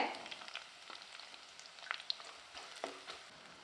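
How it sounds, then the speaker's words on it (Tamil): Quiet, steady sizzling of chopped onion sautéing in oil in a pan, with faint occasional crackles and a stir or two, no voices. "ஒரு பெரிய வெங்காயம் பொடியாக நறுக்குனதை சேர்த்து நல்லா வதக்கி விட்டுக்கலாங்க"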